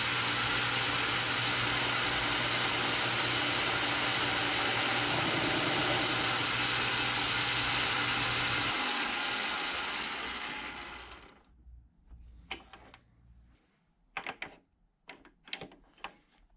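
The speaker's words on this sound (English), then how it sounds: "So I'm using my cutoff tool just to try to get a little bit better surface finish." Metal lathe with a cutoff tool facing the end of an adjusting knob for a South Bend steady rest. A loud, steady broadband cutting hiss and motor hum carries on for about eleven seconds, then stops, leaving scattered clicks and short clunks.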